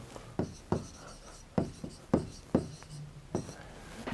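Pen or chalk writing out an answer during a Class 12 maths lesson on linear programming: about seven short, crisp scratching strokes in an uneven rhythm, close and fairly quiet, with no talking.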